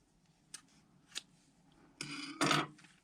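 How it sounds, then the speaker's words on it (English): Scissors snip through yarn while making a small bear ornament, with two light, brief clicks followed by a louder, longer rasping cut at close range in a quiet room. "we want to cut this yarn at about 12 inches past the end of"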